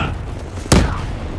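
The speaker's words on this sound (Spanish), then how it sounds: "¡Granada!" A grenade detonates in Call of Duty Black Ops 3, a single sharp, loud boom that punches through the quieter battlefield ambience and fades with a short rumbling tail.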